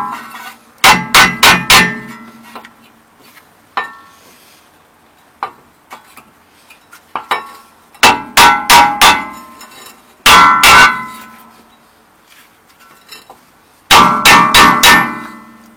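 Hammer blows on a stuck rear brake disc of a Seat Leon 1L9 TDI, heard as loud metallic clanging strikes in quick bursts of three or four, separated by quieter single taps and pauses, close up and without talk.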